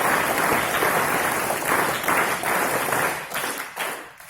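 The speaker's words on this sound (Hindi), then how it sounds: "सभी वीर ताली बजाएंगे इस बात के लिए" An audience at a session of a camp in Ajmer breaks into sustained group applause, a dense steady clapping that holds for several seconds before thinning out near the end.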